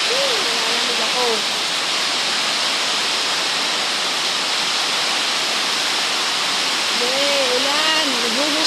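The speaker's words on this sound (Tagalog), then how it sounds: "Buhos mo na ang ulan." Heavy rain pours down in the first downpour of a stormy spell, a dense, unbroken roar throughout, with faint voices briefly audible beneath it.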